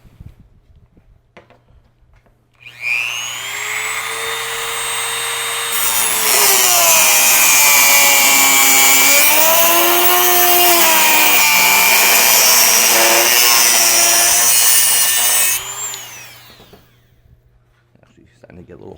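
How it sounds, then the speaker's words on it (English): A Dremel rotary tool whines as it cuts a part on a Luba high-axle build, its pitch sliding and wavering with load through a sustained loud stretch before spinning down. "So we're going to use our Dremel for that."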